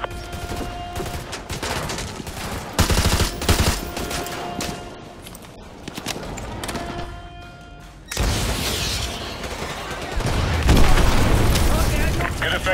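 AGM missile strikes in Call of Duty Modern Warfare 2 Remastered pound a target with heavy booming explosions amid continuous gunfire, loud and dense throughout, with radio voices over the battle.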